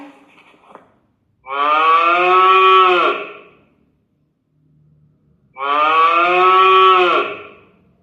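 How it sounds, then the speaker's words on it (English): A cow moos twice, two long, loud, drawn-out calls separated by a few seconds of quiet. "We'll see how cow makes a sound."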